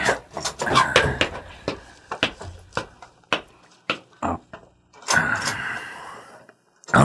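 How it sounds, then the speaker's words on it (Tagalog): A car door is unlatched and opened, a series of sharp clicks, clunks and knocks close by, with rustling movement between the hits. "Ilukat ko ti ridaw ti kotse."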